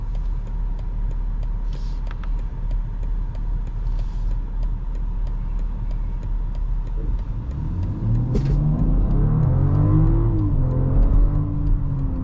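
A 2024 BMW X5 40i M Sport pulls away at full throttle from a green light, its engine note climbing in rising sweeps over steady road and cabin rumble, loud and close from inside the car with no talking.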